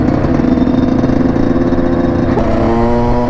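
Suzuki quads at a lot give a loud, close engine drone with a steady throbbing rumble that climbs slightly in pitch near the end as a rev builds.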